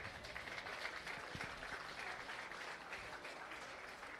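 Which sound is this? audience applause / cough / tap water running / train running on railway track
audience applause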